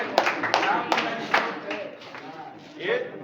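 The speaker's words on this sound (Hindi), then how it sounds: "एक बार जोरदार ताली हो।" Audience clapping at an ACC Cement and Dhanbad district team sports celebration, heard as a few sharp, separate claps mixed with voices and crowd chatter rather than a full sustained ovation.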